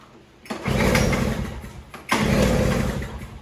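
A Toro single-stage snowblower engine sputters and runs twice after priming, each burst a loud, rough mid-pitched chug lasting over a second, separated by a brief pause.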